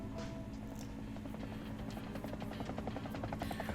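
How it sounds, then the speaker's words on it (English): A video-game helicopter approaches, its rotor blades building from a low purr into a steady whistling roar, with the rhythmic chop growing stronger and closer throughout and no talking. "a distant purr grows into the whistling roar of a helicopter's rotor blades slicing through the air."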